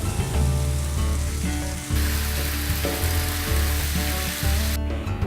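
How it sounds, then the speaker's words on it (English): A strawberry chile mixture sizzles loudly in a hot pan while being stirred, with a constant crackling fry and a rhythmic low scraping of the utensil repeating every second or so. "I'm going to stir this together and let it cook for about 1 minute."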